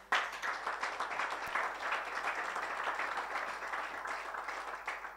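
An audience at a live Plan International event for the International Day of the Girl Child applauds Jacqueline: a soft, steady wash of many hands clapping for about five seconds, fairly distant and without speech.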